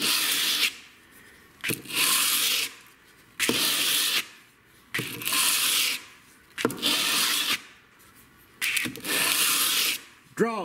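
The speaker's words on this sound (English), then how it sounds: "we're going to stroke this edge with a 150 grit." A knife edge stroked with a 150 grit abrasive gives a rhythmic series of about six long raspy rubbing strokes separated by short pauses, close and fairly loud.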